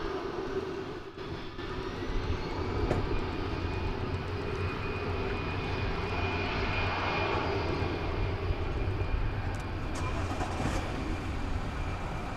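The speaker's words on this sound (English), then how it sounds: "Lifting off now to Austin, Texas. This is an Airbus A320." An Airbus A320 jet takes off at DFW Airport with a loud, sustained engine roar and a whine that slowly rises and swells, steady from start to finish and without any voices.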